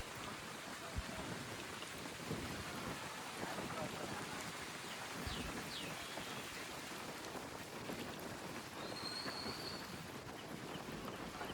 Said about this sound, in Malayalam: ചെറിയ മഴ, നൂൽമഴ തന്നെ ഉള്ളൂ കേട്ടോ